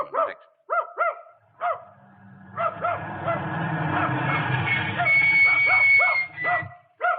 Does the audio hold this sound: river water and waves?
no